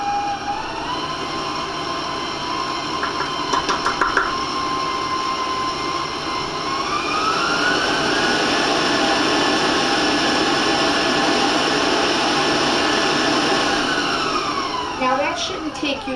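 A stand mixer beats egg yolks with granulated sugar for a chocolate chiffon cake, giving a steady whirring motor drone whose pitch rises and holds as the speed goes up, with a few brief clinks near the start and end.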